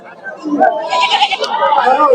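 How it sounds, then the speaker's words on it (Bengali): Goats bleat repeatedly at a busy livestock market at the Nakla bypass haat, the calls close and loud over a steady murmur of people talking nearby. "এ বছর বেশ ছাগল রয়েছে"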